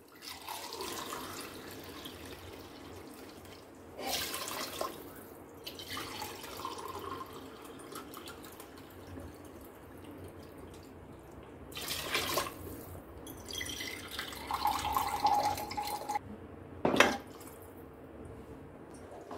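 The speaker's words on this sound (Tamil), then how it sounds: "இப்போ மூணு டம்ளர் தண்ணி ஊற்றிடலாங்க." Water is poured into a biryani pot for a fish biryani, a soft, uneven trickling and splashing that comes in a few separate bursts with quiet gaps between them.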